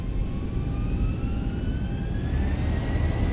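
Boeing 737 jet engines spool up to takeoff thrust in a flight simulator game, a steady loud roar with rising whine tones climbing over several seconds, continuous and without talk.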